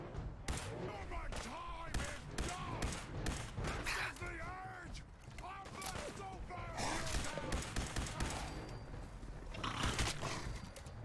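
Gunfire in a video game featuring power armor, rapid bursts of shots layered with game effects and a shouting voice throughout.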